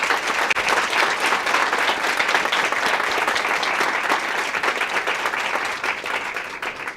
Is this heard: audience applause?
yes